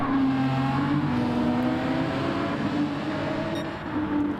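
GT3 race cars lapping Daytona in a racing video game, their engines droning loudly and continuously with shifting pitch as several cars pass close together, with no talk.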